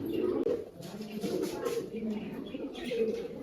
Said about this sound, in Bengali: আর যদি কবুতর লাগে এখান থেকে নিয়ে যেতে পারেন।